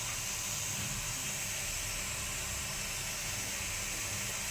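Spices hit hot oil with ginger and garlic in a home kitchen pan, producing a constant, even hiss of frying that holds steady throughout.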